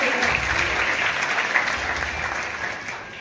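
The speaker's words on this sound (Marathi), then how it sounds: "या माझ्या भावासाठी एकदा प्रचंड जोरात टाळ्या होऊन जाऊ।" A crowd of women at a birth anniversary event for Ahilyadevi Holkar bursts into loud, sustained applause, a dense, even roar of clapping filling the whole moment, with faint voices mixed in.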